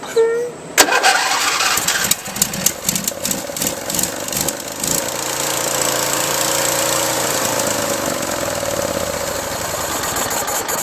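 A Yamaha 670cc V-twin motorcycle engine with clogged idle jets cranks, catches with a sharp burst and then runs at a loud, rough, uneven idle close by, with voices in the background.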